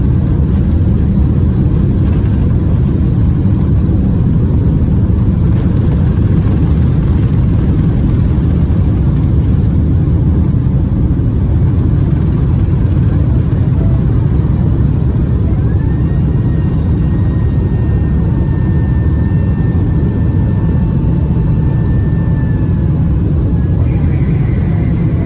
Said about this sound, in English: I also managed to get this view of a plane landing